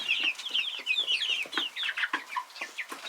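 Rhode Island Red chicks cluck and peep nonstop in their run, a dense, fast chatter of many young birds close by, with no voices.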